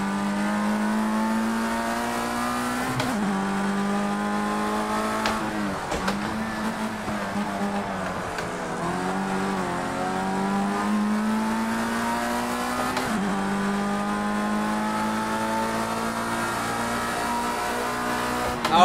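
A race car engine in Project Cars 2 drops through the gears, its tone falling and climbing again as revs change, running continuously and prominent for the full stretch with no voices.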